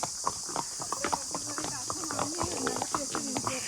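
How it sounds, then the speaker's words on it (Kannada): Horse hooves clip-clop steadily on a path during a paid hill-station trail ride in Matheran, India, as a rider talks over the continuous rhythmic footfalls. "ಇವಾಗ ಒಳ್ಳೆ ಕುದುರೆ ರೈಡೋಕೆ ಓಡ್ತಾ ಇದ್ದೀವಿ"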